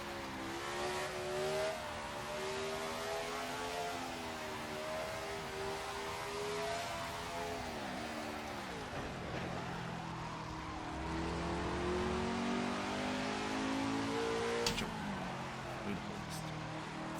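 A 1973 Matra Simca MS670 race car in a racing video game drones with a high, steady engine note that rises and falls as it shifts and corners, with tire squeal in places and someone talking over it throughout.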